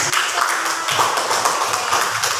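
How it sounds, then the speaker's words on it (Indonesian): A classroom of pupils clapping together for a classmate, a dense steady patter filling the room for a couple of seconds, with a faint voice underneath. "Tepuk tangan dulu untuk adik"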